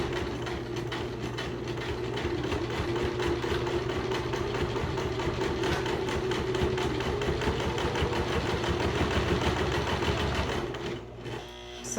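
A sewing machine runs a continuous stitching drone, close and steady, as it sews a narrow 1/8 inch seam on a face mask with a see-through panel, then stops abruptly near the end.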